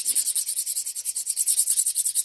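The coating on piston teeth gets roughened by fast back-and-forth rubbing, a close, bright, steady scraping with about twenty quick strokes in even rhythm and no voices.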